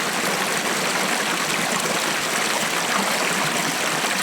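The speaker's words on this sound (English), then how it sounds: "An incredible view of a double waterfall." Double waterfall at an abandoned sacred site in Japan, a constant dense broadband rush of falling water that stays loud and steady throughout, with no voices.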